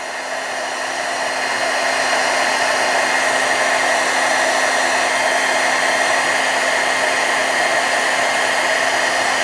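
A heat tool blows hot air over clear embossing powder to melt it, a steady close whooshing hum that swells slightly at the start and then holds constant with no speech.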